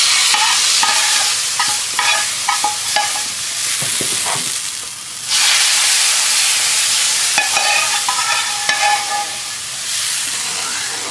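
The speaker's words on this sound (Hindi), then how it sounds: "अब हम इसमें इसका तड़का लगाने लगे हैं देसी घी का" Desi ghee tadka hitting hot mutton haleem in a pot, a loud continuous sizzle and hiss with crackling bursts, a brief dip midway, then a renewed steady frying roar alone without talk.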